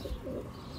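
A Cheena pigeon gives a soft, short coo, faint and close, under a low background hum.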